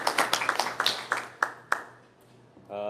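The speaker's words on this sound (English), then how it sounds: "So a round of applause for her" A handful of scattered claps at a Board of Education meeting, sharp and fairly close, thinning out into a few isolated hand claps before a voice starts talking.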